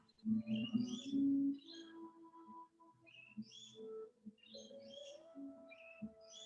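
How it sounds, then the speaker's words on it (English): Lorikeets chirp and squeak in trees in bright, high bursts throughout, with a low steady hum and some soft background noise underneath. "The birds are chirping and squeaking loudly in the background there."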